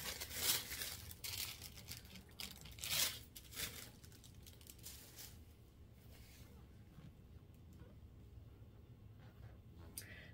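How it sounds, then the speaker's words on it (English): Soft tissue paper wrapped around a Christmas gift rustles and tears in a few loud crinkling bursts near the start, then settles into quieter, continuous handling sounds. "And it's wrapped up in this soft tissue paper."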